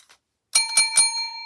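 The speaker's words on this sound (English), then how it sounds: "Yep, ring that bell." A small desk bell is struck three times in quick succession, bright ringing tones with a sustained decay after each strike, close and fairly loud with no talking.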